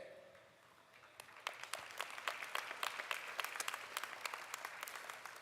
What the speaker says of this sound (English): I think we ought to applaud our students.